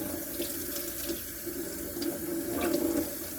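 Tap water runs steadily over an AirNet hair topper being rinsed in a sink, a continuous close splashing flow that swells slightly toward the end, with no voices.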